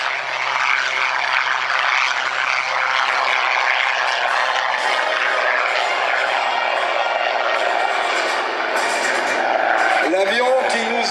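A Spitfire Mk XIX propeller fighter plane's engine roars loud and steady throughout, with a droning buzz that shifts slightly in pitch near the end.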